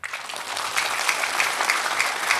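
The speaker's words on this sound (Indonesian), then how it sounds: "Tepuk tangan." Steady applause from an audience at an Indonesian santri organisation reunion in Bangkalan, dense even clapping running throughout at a moderately loud, close level.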